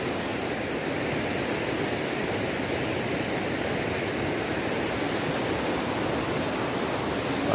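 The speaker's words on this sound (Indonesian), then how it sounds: "Ini kita di pinggir sungai ya." River flowing beside a riverbank outdoors in morning sunlight, a steady, loud, unbroken rush of water that stays even throughout with no voices.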